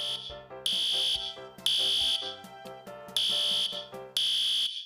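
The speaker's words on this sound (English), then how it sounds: "The alarm sounded throughout the building" A school fire alarm sounds in loud piercing bursts that switch on and off in a repeating pattern, with lower electronic tones running between the blasts and no voices.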